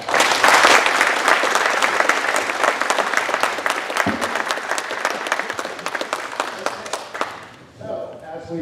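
Sustained applause from a forum audience honoring the moderators of a county supervisors' district candidate debate, loud and dense for about seven seconds before thinning out, followed by a few faint scattered sounds.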